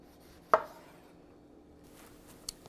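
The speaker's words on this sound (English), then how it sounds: "I like cutting my tomatoes in halves." A single sharp knife chop through a grape tomato on a cutting board while preparing an avocado salad, close and fairly quiet, followed by a faint small tap near the end in an otherwise quiet kitchen.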